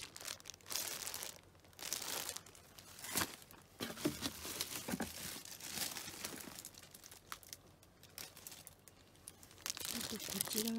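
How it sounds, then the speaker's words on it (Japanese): A plastic shopping bag being handled gives bursts of close crinkling and rustling that come and go irregularly, fairly quiet, with no speech over it. "ビニール袋ですね。"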